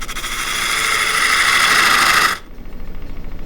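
Wood being turned on a small lathe with a skew chisel, shaping a pillar for a large chess pawn: a steady, loud hissing squeal of the cut for about two seconds that stops abruptly, leaving a lower motor hum.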